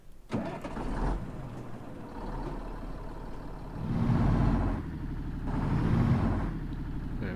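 A DAF NTT 3300 truck in Euro Truck Simulator 2 cranks and fires up near 0.3 s, then settles into a steady low idle with two swelling revs around 4 s and 6 s.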